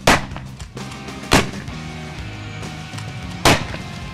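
Three loud, sharp gunshots from a firearm firing shells during a film stunt, widely spaced and ringing out with short echoing tails, with no talk.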